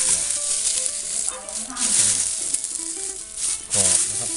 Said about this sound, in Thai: อันนี้ที่เราถ้าเราคั่วเสร็จมันก็จะ กรอบฟังเสียงนะครับเสียง